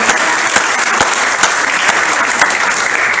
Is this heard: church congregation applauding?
yes